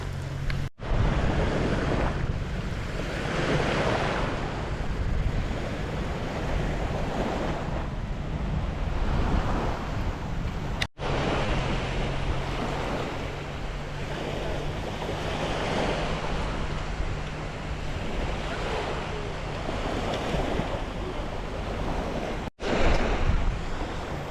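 Surf breaks steadily on the sandy beach at Bang Saray, a loud continuous wash of waves with wind rumbling across the microphone and no voices.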